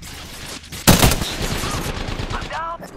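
Close, loud bursts of automatic gunfire in the Apex Legends Arenas mode, opening with a sharp heavy shot and followed by rapid continuous firing, with a voice speaking near the end.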